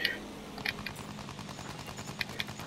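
A machine gun fires in the Battlefield 1 shooter, rapid shots rattling at a moderate distance with a few sharper cracks standing out, fairly quiet overall and with no speech.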